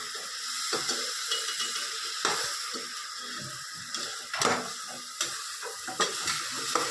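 Curd is added to tomato masala sizzling in a pan, a steady close frying hiss punctuated by irregular scraping and stirring clatters of a spoon.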